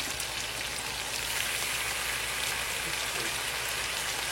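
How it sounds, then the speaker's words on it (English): Brussels sprouts and onions fry in butter and olive oil in a hot pan, giving a steady, dense crackling sizzle that holds at an even level with no talking. "I'm gonna heat that oil back up. And I'm gonna start putting in my stir fry."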